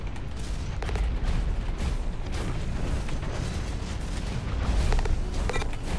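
Gunfire in the mech shooter Hawken rattles along as steady, dense bursts of shots and booms over a low rumble, loud and continuous throughout with no talking.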